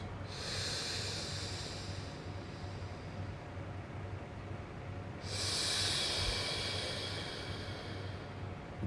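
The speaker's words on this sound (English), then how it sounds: "taking deep breaths," Two deep, long breaths, each a slow, steady airy rush lasting several seconds with a brief lull between them, close and fairly loud, with no voice.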